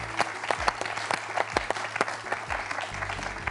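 Studio audience applause on a French television quiz show, a steady wash of many hands clapping with crisp individual claps standing out, fairly close and continuous throughout, with no voices over it.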